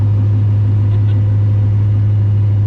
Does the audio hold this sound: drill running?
no